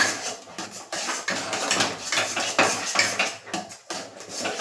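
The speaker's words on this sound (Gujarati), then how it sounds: "ત્યારે આપણે છે તે ગેસ થોડો ફૂલ કરીશું અને ફટાફટ તેને હલાવવા લાગીશું." A utensil scrapes and clatters against a pan as khandvi batter is stirred quickly over a gas flame, a steady busy scraping sound with no talk.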